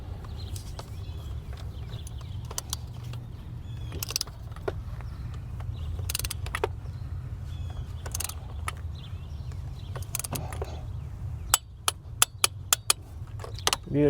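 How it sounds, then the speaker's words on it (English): A torque wrench tightens spark plugs on a BMW 550i, giving faint scattered ratchet clicks and metallic taps with a sharp run of clicks near the end, over a low steady hum. "Now we'll go ahead and torque it down."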